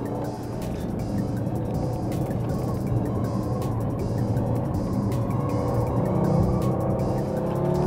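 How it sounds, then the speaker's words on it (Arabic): A 2018 Audi TT RS with quattro all-wheel drive is driven in dynamic mode, its engine giving a steady, close, full-bodied drone that holds level throughout with no pauses. "خلينا نرجع على الديناميك ونستمتع شوي بقيادة الأودي تي تي آر إس."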